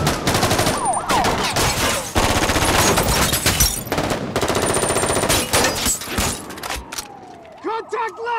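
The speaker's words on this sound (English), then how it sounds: "Suppressive fire!" Sustained automatic machine gun fire in a film shootout around an armored car, dense rapid bursts continuing for several seconds with loud shots and clatter, ending as someone shouts.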